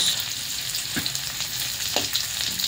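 Garlic and onion sautéing in a pan as they are stirred, a constant sizzle with a couple of distinct scrapes of the spatula against the pan, close and with no talking.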